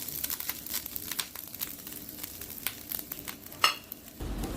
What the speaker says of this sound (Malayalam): നമുക്കിത് ബ്രൗൺ കളർ ആവുന്ന വരെ വറുത്തെടുക്കണം.